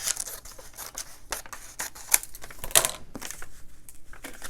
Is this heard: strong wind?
no